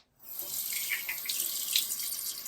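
A bathroom tap starts and runs steadily into a sink while water is splashed onto a face, with a close, hissing flow and small splashes.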